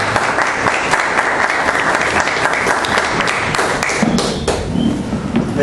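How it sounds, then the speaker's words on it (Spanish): A church congregation gives sustained, loud applause of welcome during a sermon service, dense steady clapping filling the room for several seconds without a break. "démosle ese fuerte aplauso de bienvenida"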